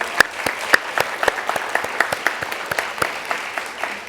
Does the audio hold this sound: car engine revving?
no